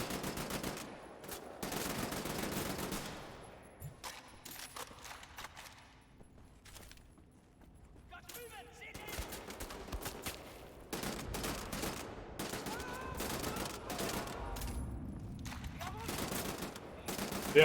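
Gunfire rings out while shooting Nazis in Wolfenstein: The New Order, with bursts of rapid automatic fire and single shots in clusters across the clip. A quieter lull falls partway through before heavy shooting resumes. Talk runs faintly underneath.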